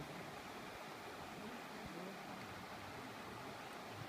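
Steady, full rush of river water flowing at dusk, loud and continuous with no breaks, filling the whole scene.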